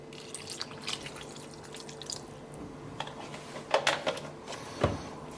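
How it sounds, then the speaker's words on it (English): Milk being poured and stirred into mashed potatoes and turnips for neeps and tatties, giving soft wet splashing and liquid sloshing with a few louder sloppy bursts near the end, close by and without talk. "now I'm going to grab the milk and add that"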